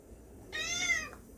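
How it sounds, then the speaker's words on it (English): A kitty meows once, a clear, drawn-out cry rising and falling over roughly half a second, close by in a quiet indoor room beside a bookshelf setup. "We've got a kitty trying to talk"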